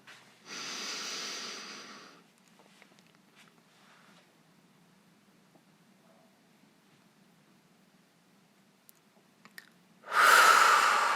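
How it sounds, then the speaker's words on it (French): Slow, deep exhalations of all the air out through the mouth during a relaxation exercise, two long breathy whooshes, close and fairly loud, separated by a long quiet stretch with faint background hiss and no talk. "On expire tout l'air de notre corps par la bouche."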